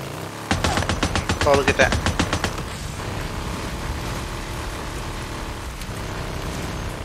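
Rapid gunfire in the post-apocalyptic video game Days Gone, with a tight burst of loud shots in the first few seconds before a quieter rumbling scene where someone speaks briefly.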